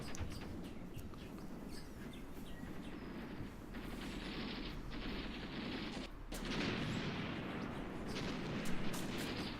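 Sustained battlefield gunfire from a Graviteam Tactics battle in a South African campaign, dense crackling shots and rumbling bursts at a distance, steady throughout with a louder stretch toward the end and no talk.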